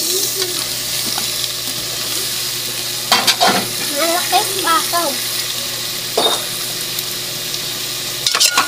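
Chayote frying in a pan while being stirred, a steady close sizzle with intermittent scraping and clinking of the utensil, and a brief voice partway through.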